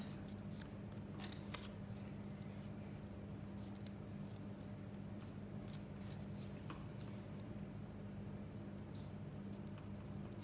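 Scissors cutting paper for a tulip pop-up card, faint scattered snips and rustles over a steady low hum, with no voices.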